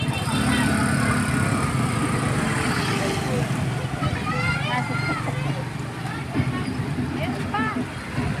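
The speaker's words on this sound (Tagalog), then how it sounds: "Parang traffic." Busy street traffic along a parade route, a continuous roadway rumble with passing vehicles and crowd babble, while people talk nearby over the noise.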